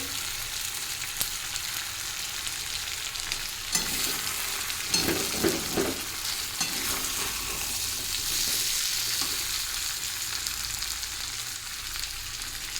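Chicken curry with tomato sizzles steadily in a pan while being stirred and fried until red, a continuous close hiss with soft scraping stirs and no talk.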